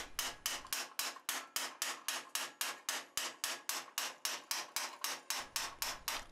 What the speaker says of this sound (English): I'm going to go to the vise and use my hot cut chisel and just cut off the excess material.